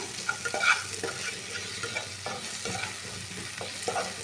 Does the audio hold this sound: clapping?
no